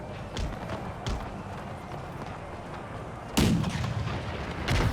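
In the video game Empire 2, an artillery battery of the Polish-Lithuanian Commonwealth fires several heavy booms, spaced irregularly across a rumbling battlefield din. The last shots land louder and closer.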